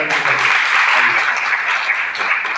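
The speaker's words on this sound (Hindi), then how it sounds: "जोरदार तालियां बजाएं राम।" Applause from a seminar audience in Bihar Sharif, a dense, steady wash of clapping that stays loud and continuous throughout without a break.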